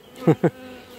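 Honeybees from an April swarm being handled for queen marking, heard as two short, close buzzing bursts in quick succession against a quiet background.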